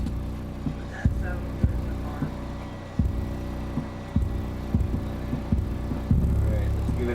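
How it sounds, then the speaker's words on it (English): A down-firing 12-inch Seismic Audio SA-SSCS12 shallow-mount powered subwoofer plays deep bass, heard as steady low throbbing with regular punchy thumps about once a second, swelling louder near the end. "this is a down-firing subwoofer, so it uses much less power to achieve the same goal as you would if this was just a regular 12-inch single 4-ohm single magnet motor subwoofer"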